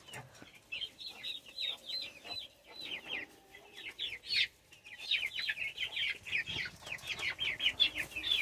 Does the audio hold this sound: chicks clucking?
yes